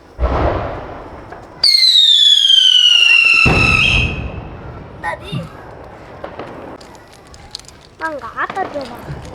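Diwali firecrackers go off close by: a loud whistling, hissing rocket with a descending shriek, then crackling bursts and pops, with people talking in between.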